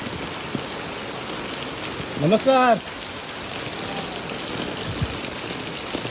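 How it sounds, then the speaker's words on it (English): Steady rain falls on the ground during a walk toward Malvan beach, a constant close hiss with dense pattering, while a person briefly speaks a greeting over it. "It's beautiful rainy days."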